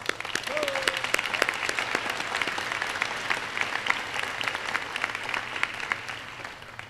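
Sustained applause from a large crowd at the Norwell High School 2023 graduation ceremony, dense and steady throughout, with no voices standing out above the clapping.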